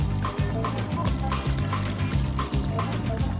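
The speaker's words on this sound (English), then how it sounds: "Then they pour it through a cotton sieve into a pitcher." Gingerbread milk at Moo Milk Bar is poured through a cotton sieve into a pitcher, a close, burbling stream of liquid with rhythmic glugs over faint background sound.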